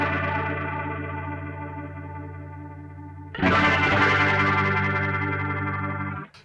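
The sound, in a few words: rotary speaker effect pedal on electric guitar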